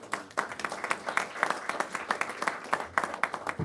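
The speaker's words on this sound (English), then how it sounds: "So let's give a round of applause to Mayor Adams." An audience applauds Mayor Adams at a New York State announcement on cracking down on illegal pot shops, steady clapping from a modest crowd lasting several seconds at moderate level.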